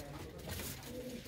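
Good-breed pigeons kept in a coop give brief low, throaty coos close by, with a voice murmuring faintly in the background.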